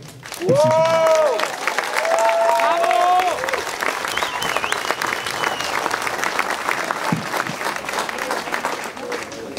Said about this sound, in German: Da kann man mal klatschen, ja.